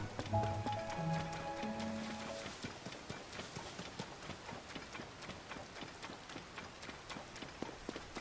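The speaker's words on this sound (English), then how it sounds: "Let's get out of the rain." Rain falls while a horse is ridden in The Legend of Zelda: Tears of the Kingdom. A soft, steady patter mixes with rhythmic hoofbeats and a few brief musical tones at the start, all fairly faint.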